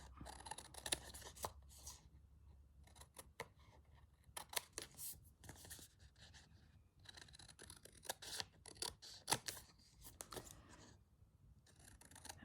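Scissors trimming paper for a journal page, giving a run of quick, crisp snips and rustles at close range, irregular and fairly quiet, with no speech.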